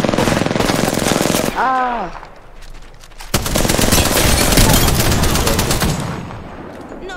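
Automatic gunfire from the Apex Legends battle royale shooter, with dense, loud rapid bursts filling most of the clip, a short lull, then another sustained volley. A voice gives a brief exclamation partway through.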